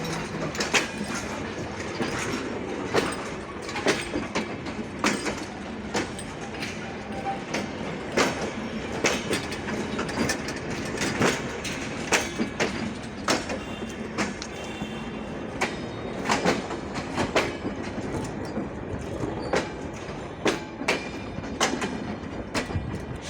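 The rakes of the Ekota, Drutojan and Panchagarh Express trains roll through Saidpur railway station, with a continuous rumble punctuated by repeated, evenly spaced wheel clacks over rail joints.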